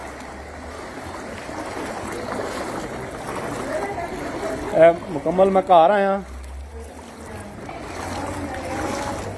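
Floodwater sloshes and splashes through a flooded house after heavy rains in Bhimber, Azad Kashmir, a continuous watery wash heard close by, with someone speaking over it and a brief burst of louder splashing partway through.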